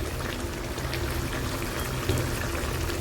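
A little ghee is poured into a simmering vegetarian paneer curry, giving a steady close bubbling and pouring hiss throughout with a slight swell near the end.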